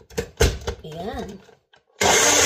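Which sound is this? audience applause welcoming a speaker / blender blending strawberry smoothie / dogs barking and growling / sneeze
blender blending strawberry smoothie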